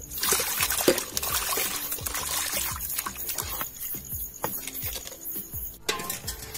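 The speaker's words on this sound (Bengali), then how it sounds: "এরকম করে করে ডলে এটা পরিষ্কার করে ধুয়ে নেব।" Fish being rubbed and rinsed by hand in water while cleaning chang fish for a bottle gourd curry, giving a steady run of wet splashes, trickles and rhythmic sloshing strokes close up, with no talk.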